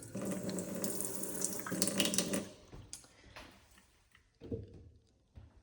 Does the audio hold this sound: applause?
no